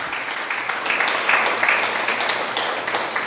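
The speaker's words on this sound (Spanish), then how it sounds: "Dale un aplauso a Dios." Worshippers at a church service applaud together, producing a dense, continuous wash of clapping with a few brighter individual claps, evenly loud throughout and heard from the middle of the room.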